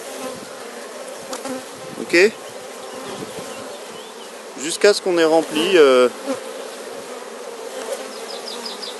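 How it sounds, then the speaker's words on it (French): Honeybees buzz steadily around a hive during a powdered-sugar varroa mite count, a dense hum with louder swells, while a person speaks briefly in the foreground. "On fait tomber les abeilles"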